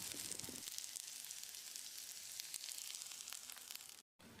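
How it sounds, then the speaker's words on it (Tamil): Pirandai (adamant creeper) sautéing in hot oil over moderate heat gives a steady, close sizzle with crackling bursts, broken once near the end by a brief silence. "இதில் பிரண்டையை போட்டு அளவான தீயிலேயே ஒரு 30-40 செகண்ட் வதக்கிடலாம்"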